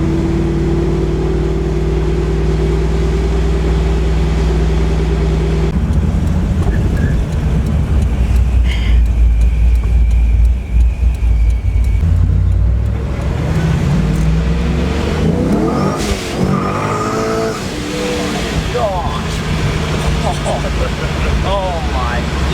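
An 800hp Pontiac WS6 Trans Am accelerating hard, loud sustained engine roar heard from inside the cabin, surging with rising revs and gear changes, with occupants talking over it.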